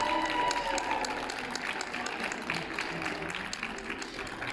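A crowd at a counter-demonstration during a Querdenker gathering outdoors in Schwäbisch Hall applauds steadily and fairly distantly. Scattered clapping carries through and mixes with murmuring voices.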